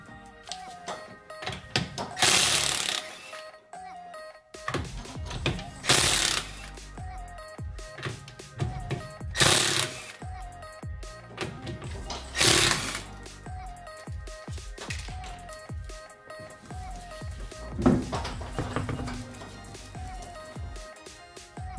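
Ratchet removing the lug nuts from a wheel on a 1991-1996 Infiniti G20, heard as bursts of rapid clicking ratcheting with metallic clinks and handling noises in between, close and moderately loud.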